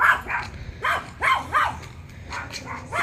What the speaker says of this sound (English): here's our guard dog